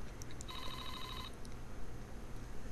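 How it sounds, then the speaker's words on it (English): A single short electronic telephone ring in the Famicom Detective Club game, a bright, buzzing trill lasting under a second over a low background hum, with no talk. "we're going to answer this phone call"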